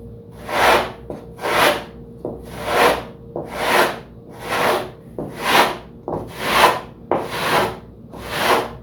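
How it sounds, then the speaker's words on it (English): Sandpaper of 220 grit rubs over the wooden horizontal stabilizer of a giant-scale P-47 Razorback model plane, a steady series of about nine close, even strokes in a regular back-and-forth rhythm. "we'll use 220 grit sandpaper and we'll just round it off a little bit"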